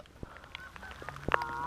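Migratory Canada geese honk near decoys in the field, several calls over steady outdoor background, including one loud close honk toward the end among fainter distant ones.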